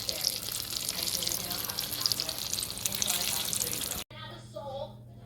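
Chili rellenos frying in a pan for a Tex-Mex dish, a steady loud sizzle that runs for about four seconds, then drops out briefly and returns more quietly with a few softer pops.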